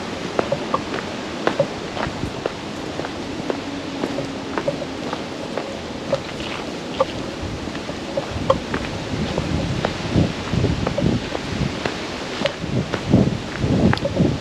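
Wind gusts through fall leaves on a mountaintop in Big Pocono State Park, making a continuous soft rustle dotted with scattered crackles and rising in bursts, with no voices.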